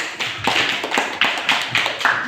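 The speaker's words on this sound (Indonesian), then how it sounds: "baik, kita berikan aplaus." A classroom audience claps in applause at a madrasah lesson, a run of sharp, fairly close claps in an uneven rhythm lasting a couple of seconds.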